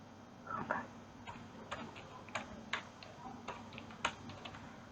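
Someone types names on a computer keyboard, with irregular clusters of crisp key clicks close by and no talking.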